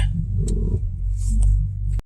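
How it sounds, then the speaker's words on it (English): A BMW E90 engine cranks and catches, then settles into a steady, loud low rumble close by, cut off abruptly by a short click at the end. "We're going to start the car up"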